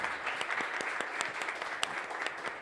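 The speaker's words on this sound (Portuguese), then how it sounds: "Uma salva de palmas para eles." An audience applauds panelists at a startup event, a fairly faint, even patter of many hands clapping heard from a distance with no voices over it.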